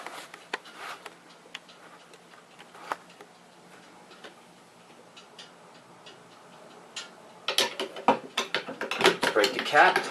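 Popping the top off a mead fermenter and stirring: quiet small clicks and taps at first, then a burst of louder clattering, scraping and sloshing near the end, close by.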